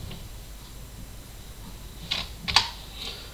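Keys tap softly on a computer keyboard while configuring a Cisco switch, a quiet low hum underneath, then two sharper clicks near the end as a key is pressed firmly.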